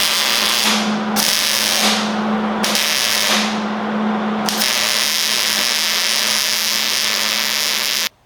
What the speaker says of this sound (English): Now I will weld it into place.